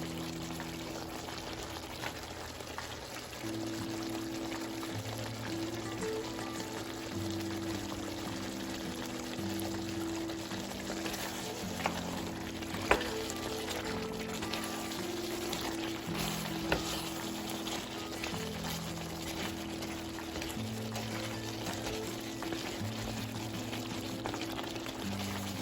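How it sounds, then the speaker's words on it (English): Water poured into a pot of Dominican-style chicken foot stew makes a steady, continuous pouring and bubbling sound that lasts throughout, with soft music playing underneath. "Put a little bit more water on it so it steams down."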